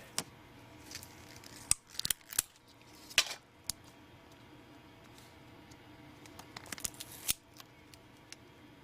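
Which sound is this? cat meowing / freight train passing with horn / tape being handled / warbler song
tape being handled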